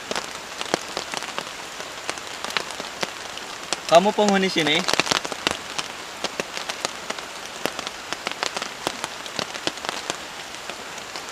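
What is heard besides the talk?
heavy rain while camping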